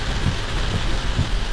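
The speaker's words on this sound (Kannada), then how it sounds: "ಇದ್ದಕ್ಕಿದ್ದಂಗೆ ಫುಲ್ ಜೋರಾಗೋಯ್ತು ಮಳೆ." Sudden heavy rain pours in an Ecuador cloud forest, a dense, steady hiss of downpour with a few heavier splashes, close and loud with no voices.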